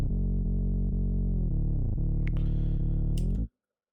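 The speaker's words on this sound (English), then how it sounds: "here is the sub bass without any processing" Unprocessed sub bass from a progressive house production, a rich sustained synth tone with buzzy harmonics that holds steady, bends down in pitch a couple of times with faint clicks, then cuts off abruptly into silence.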